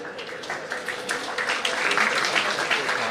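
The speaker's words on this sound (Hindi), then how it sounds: "एक जबरदस्त तालियां आप उन सभी के लिए बजाते जाएं।" Audience applause at a student talent awards ceremony, steady crowd clapping that builds slightly over a few seconds, with a voice speaking over it.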